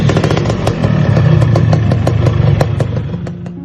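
A Yamaha RX King two-stroke motorcycle engine runs close by, with a steady, raspy, popping idle and sharp clattering spikes. No voices are heard.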